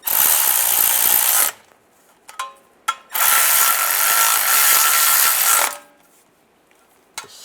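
A ratchet or power tool tightens bolts on a transmission plate of a 2007-2013 Chevrolet Silverado, running loud in two long bursts with short clicks and pauses between.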